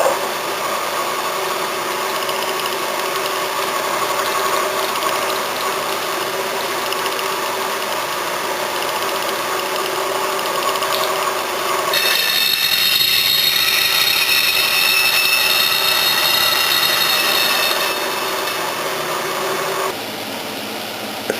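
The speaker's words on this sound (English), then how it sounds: "I'm going to run this 1/4 inch drill at 660." A milling machine hums and whines steadily as a 1/4 inch drill bores holes in a brake rotor at 660 rpm, its tone shifting brighter partway through before settling back near the end, with no talking.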